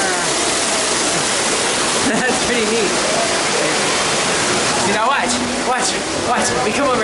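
A theme park log ride's artificial waterfall gives a steady rushing roar that fills the whole scene, with brief voices and a few bumps rising over it.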